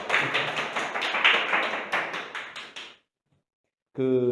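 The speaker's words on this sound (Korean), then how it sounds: "박수 한번 드리겠습니다." An audience at a Korean-language cram school's exam-prep briefing gives the teacher a round of dense, steady clapping for about three seconds. It stops abruptly, a second of silence follows, and then a voice begins speaking.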